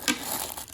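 A plastic bag crinkles briefly and close up while a Ratio FreeDiver dive watch is unboxed, a short, dry rustle lasting under a second.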